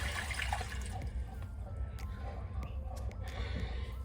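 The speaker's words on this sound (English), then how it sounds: "we're gonna take 2 cups of water, pour it in the crock pot" Two cups of water poured into a crock pot, a continuous close splashing rush with faint drips.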